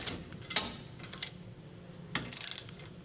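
A hand ratchet snugging trailer hitch bolts on a 2024 Chevrolet Colorado, with quick clicking bursts and metallic taps, close up and moderately loud, separated by quiet gaps.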